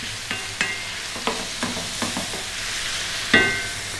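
Ginger garlic paste fries in a pan for chicken curry, a soft steady sizzle broken by repeated scraping clicks of a utensil stirring against the pan, close and alone.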